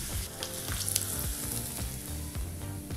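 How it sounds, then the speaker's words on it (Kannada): Green chillies and curry leaves sizzle in hot oil for a tempering, a steady close crackling fry with brief louder pops and spits, no voices. "ಹಸಿಮೆಣಸಿನಕಾಯಿ ಜೊತೆಗೆ ಕರಿಬೇವಿನ ಸೊಪ್ಪನ್ನು ಸೇರಿಸಿ ಒಂದು 10-15 ಸೆಕೆಂಡು ಬಿಸಿ ಮಾಡಿಕೊಂಡ್ರೆ ಸಾಕಾಗತ್ತೆ"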